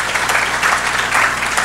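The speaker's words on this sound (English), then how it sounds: "Let's give a round of applause for creator." Dense audience applause in a conference hall for a badge creator, a loud, steady burst of many hands clapping at once.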